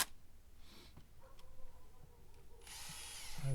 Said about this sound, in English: I'm gonna grab my drill with a brush